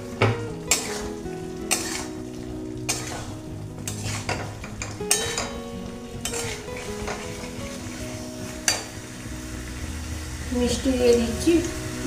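Potato and cauliflower frying in a pan with coriander-cumin paste: a close, continuous sizzle with a spatula scraping and clinking in repeated strokes and a brief louder bubbling near the end, no talking.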